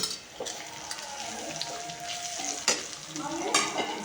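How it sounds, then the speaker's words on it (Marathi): Onion-garlic powder masala frying in hot oil while being stirred in a pan for a spicy mutton gravy, with a steady close sizzle, scraping stir strokes and a few sharper clinks. "कांदा लसूण पावडर टाकलेला हा मसाला आहे तो आता तो आपण तेलामध्ये टाकून घ्यायचा आहे हे बघा तेलात असं हा फ्राय करून घेऊ आपण"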